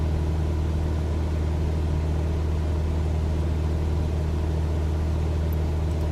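A Cessna 172 engine throttled back to cruise in a flight simulator drones as a steady, even cockpit hum and propeller rumble, constant in level with no talking.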